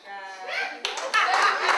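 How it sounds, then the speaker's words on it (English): A comedy-club crowd at a restaurant show claps in a short ragged burst, rising after a voice speaks, fairly close and brief. "Clap if you cheat."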